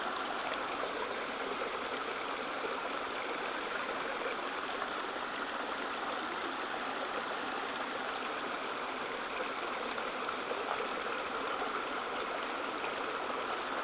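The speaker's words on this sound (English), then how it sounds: "take a moment and listen to the sound of this creek." A creek in the Pennsylvania hills flows steadily, its even rushing and gurgling water holding a constant moderate level with no voices over it.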